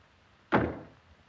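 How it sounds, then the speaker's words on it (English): A door swings shut with a single solid thud that fades quickly, heard close by and alone in a quiet room with no talking. "Now close this door, Wally."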